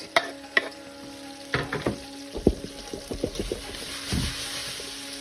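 Garlic, onions and spring onions sizzle in a pot, with a few sharp clinks and stirring scrapes breaking over a steady low frying hiss, no voices.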